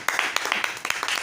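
A church congregation claps in acclaim of the Lord, a run of quick, sharp handclaps in an uneven rhythm, close and fairly loud with no voices over them.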